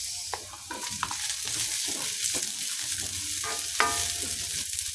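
Onion sautéing in a pan with a steady, moderate sizzle and the occasional scrape of stirring, no voices over it.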